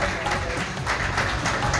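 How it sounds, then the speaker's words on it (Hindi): Audience applause at an honoring ceremony, loud close clapping in a dense, continuous burst with some crowd noise mixed in. "आप तालियों से बड़ी सहभागिता निभाए।"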